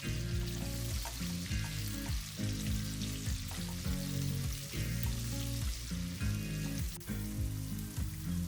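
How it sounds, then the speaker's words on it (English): Chopped onion sizzles and fries steadily in chicken fat left from frying chicken legs, a dense, continuous crackle close by, with faint stirring underneath and no talk. "I fry the chopped onion in the oil left over from frying the chicken legs."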